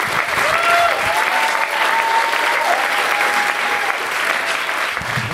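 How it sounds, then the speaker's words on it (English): Enthusiastic audience applause and some cheering at a live comedy show, a dense, steady wash of clapping sustained for several seconds, close and loud, with a faint whistle. "Keep it going, round of applause for Adam Hrabik."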